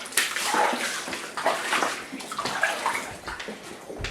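Water sloshing and splashing through a flooded home basement, with a continuous wet, churning wash and uneven surges close to the microphone, and no voices.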